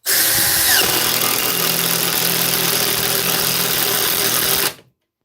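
A water-damaged DeWalt power tool runs at full speed, a loud close buzzing motor whine that holds steady for several seconds and then cuts off abruptly into silence.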